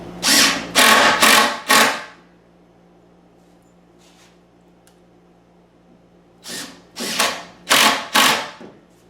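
A power tool drives screws through boards while kitchen base cabinets are built, two loud bursts of rapid whirring impacts near the mic, separated by a long quiet pause with faint background hum.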